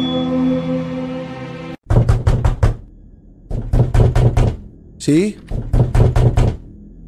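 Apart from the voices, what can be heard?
knocking on a door in the video game Slender Mirror World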